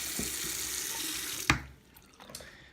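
Hot water runs steadily from a tap into a mug until it is filled to the top, a continuous close splashing flow that stops abruptly partway, leaving a few small clinks and drips afterward.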